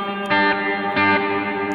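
Electric guitar sustaining a chord through a reverb effect set to 90% diffusion, with two brighter re-strummed swells and a dense, smooth wash of reflections and no talking.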